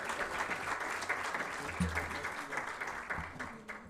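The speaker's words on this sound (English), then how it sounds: "A round of applause for Sol Plaatje University once more" Applause for Sol Plaatje University at a research plan launch, a faint, even wash of many hands clapping from a seated audience, with a short voice breaking in near the end.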